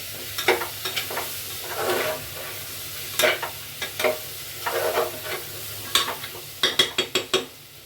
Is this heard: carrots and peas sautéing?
yes